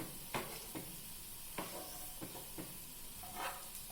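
Coriander-leaf fritters frying in hot oil, with a steady low sizzle and a few sharp clinks and scrapes of a utensil stirring and turning them in the pan.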